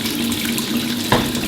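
Warm water runs steadily from a tap into a carpet cleaner's tank, a constant close rushing stream with a brief clunk near the end.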